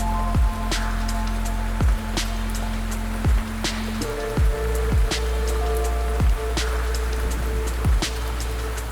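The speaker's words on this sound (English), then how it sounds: "It just rained from 4 till now, and it's just sort of calmed down" Rain falls steadily at a carp fishing camp, a continuous patter with heavy drops hitting a surface every second or so, close and fairly loud throughout.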